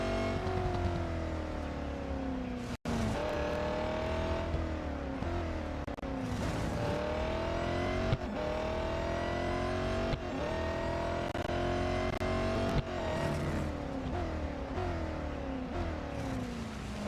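Race car engine in the Real Racing 3 mobile racing game, a continuous high-revving whine rising and falling through repeated gear shifts and accelerations, with occasional tire noise, steady and loud with no talk.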